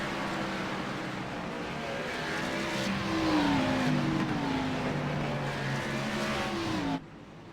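A race car at the Sonoma track, its engine droning steadily with rising and falling pitch as it drives and shifts, fairly close and loud throughout, cutting off abruptly near the end.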